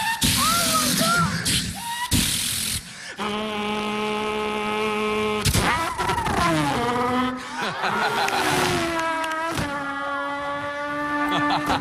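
A man vocally imitates race car engines, his voice producing high, rising and falling whines and buzzing shifts between short bursts and sharp breaks, close and fairly loud.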